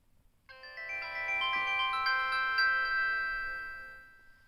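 A prototype Samsung flip phone plays its power-on jingle: a bright, bell-like melodic chime that begins after a short pause, swells, and rings on steadily for several seconds, clear and alone.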